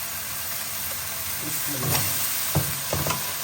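Boiled meat tipped into a pan of sizzling, fried-down spice masala while cooking a gourd and meat curry, giving a steady close frying hiss with a few soft clatters and stirring bumps toward the end.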